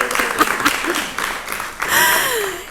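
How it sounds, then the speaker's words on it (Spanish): Scattered applause breaks out from an audience at a storytelling gathering in Arucas, rising in a late swell, while a voice speaks through the clapping. "pero se merece un aplauso,"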